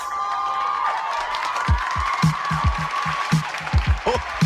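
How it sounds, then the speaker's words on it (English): Recorded crowd cheering and whooping at a Christmas show at the Burning Spear, with a steady hiss of cheers under music, punctuated by several loud low thumps and shouts toward the end. "get ready to cheer for the Christmas show at the Burning Spear"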